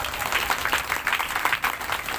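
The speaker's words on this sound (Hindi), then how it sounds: "करताली सहित धन्यवाद अर्पण करें" Audience applause at a ceremony honouring President Droupadi Murmu: a steady, dense patter of many hands clapping throughout, moderately loud and even, with no voices standing out.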